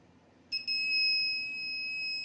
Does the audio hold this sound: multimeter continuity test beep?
yes